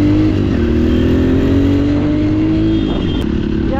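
Dirt bike engine revving loud and close during a ride at SPN Park in Narayanthan, Nepal, a steady growling drone with rising pitch that holds throughout before easing slightly near the end.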